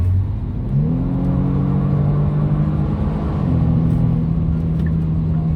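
A 2022 Genesis G70 Launch Edition accelerating hard on the highway after a downshift, its engine note rising in pitch and then dropping as it shifts up, with a steady road-and-wind rumble underneath and no talking.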